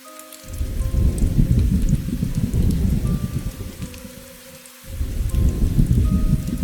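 Heavy rain pours steadily, with a rumble of thunder rolling through the downpour and dipping briefly before the storm surges again.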